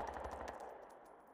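Rapid gunfire from the video game Insurgency Sandstorm, a dense burst of repeated shots in quick rhythm that rattles loudly for a moment and then thins into scattered, fainter reports, with no voices over it.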